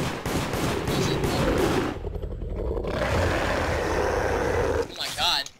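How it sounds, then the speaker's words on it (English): Bursts of rapid gunfire crackle loudly over a busy soundscape in the video game Deceit, pausing briefly before more shots and a scraping, whooshing effect near the end. "I'm just hearing gunshots."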